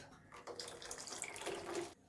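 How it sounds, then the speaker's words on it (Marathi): Water is poured into a mixer jar while making a pomfret curry batter without oil; a soft, close splashing stream runs for about one and a half seconds, then stops. "अजून थोडंसं पाणी ओतूया आपण त्याच्यात"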